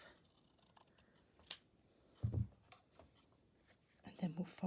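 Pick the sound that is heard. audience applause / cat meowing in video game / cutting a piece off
cutting a piece off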